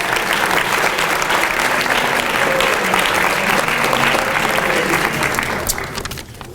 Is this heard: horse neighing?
no